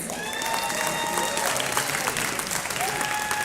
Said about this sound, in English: give a round of applause for our 2021 Class 5A Basketball State Champions